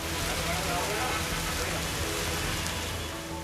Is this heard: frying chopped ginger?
no